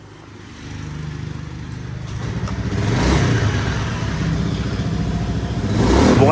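A Honda Beat scooter engine that had been misfiring starts up and revs, a mid-pitched motor rising and holding steady before climbing again near the end, close and loud with no talking.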